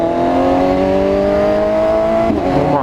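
A BMW S1000RR sportbike engine revs hard and loud, its pitch climbing steadily as it pulls through a gear before a brief drop and surge near the end, all close by and continuous.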